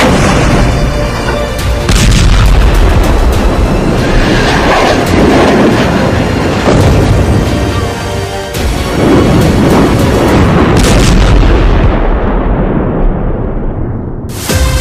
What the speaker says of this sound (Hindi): हिजबुल्लाह आर्मी ने हाइफा में रॉकेट धमाके की झड़ी